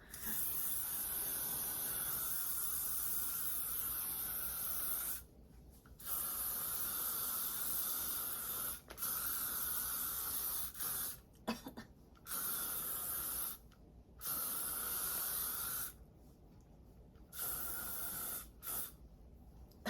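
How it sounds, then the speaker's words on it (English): L'Oreal Almond Satin Ultra Extra Strong Hold hairspray hisses from an aerosol can in long, steady bursts with short pauses between them, close and continuous for most of the stretch. "Now I'm gonna start spraying. This is the L'Oreal Almond Satin Ultra Extra Strong Hold Unscented."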